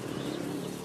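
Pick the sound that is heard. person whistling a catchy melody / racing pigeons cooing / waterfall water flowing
racing pigeons cooing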